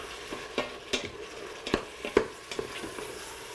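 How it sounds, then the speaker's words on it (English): Garlic frying in a pot, stirred by hand: a spoon scrapes and clatters against the pot in a handful of distinct strokes over a soft, steady sizzle, fairly close and with no talking. "let me give this a good stir"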